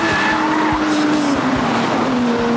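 A Porsche Boxster driven on the limit around a race track, its engine note loud and close with a sustained tonal drone, mixed with tire squeal as it pushes through corners.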